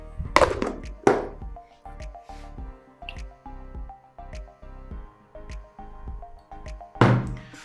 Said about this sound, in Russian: 200 грамм риса есть, добавляем воду.